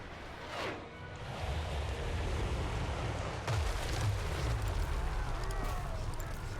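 Bombs exploding in an aerial bombing run over the towns of Etain and Ivres in a video game, with a steady deep roar of blasts and rumble and a sharp fresh burst partway through.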